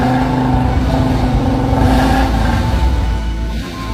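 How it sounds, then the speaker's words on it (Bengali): A motorcycle engine runs and revs steadily and loudly for the whole stretch, with a dense, continuous mechanical drone and no speech over it. "মোটরসাইকেল স্টার্ট করতে হবে"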